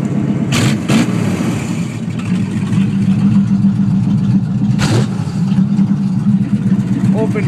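A gutted 1992 Chevrolet Caprice state trooper demolition derby car runs on open Headman headers, giving a loud, rough, continuous engine rumble with a few sharp revs and bursts of exhaust.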